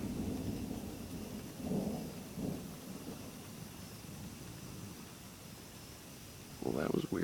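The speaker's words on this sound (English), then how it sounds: "Starting to sprinkle again." Light rain begins to fall during a thunderstorm in Dublin, Indiana, a faint soft hiss under low rumbles, with a few short louder bursts that may be voices and a stronger burst near the end.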